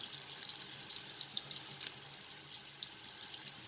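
Onions and whole garam masala frying in hot vanaspati ghee for chicken biryani, a soft, continuous crackling sizzle with faint bubbling pops.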